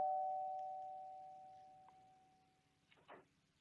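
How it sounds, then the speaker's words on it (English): A single electronic doorbell tone in the video game Z.A.T.O. rings and fades out, followed by a few faint knocks or clicks in a quiet room. "our negotiator fixes her hair and rings the doorbell"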